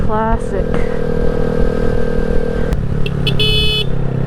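Short electronic horn beeps from a 2020 Honda Grom motorcycle, a few quick toots over a steady idling engine, with a voice speaking nearby.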